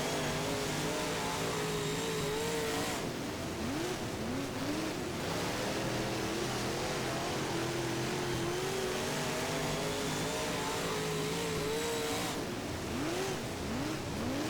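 UMP modified race car engines in the rFactor racing game, a steady loud drone with rising and falling pitch as the car shifts and accelerates around the track, continuous throughout with no talk.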